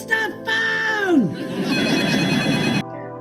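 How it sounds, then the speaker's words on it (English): A telephone bell rings loudly in a sitcom scene, a bright, sustained electric trill that continues for about three seconds before cutting off, with a voice and crowd noise at the start. "Howard, it's the phone!"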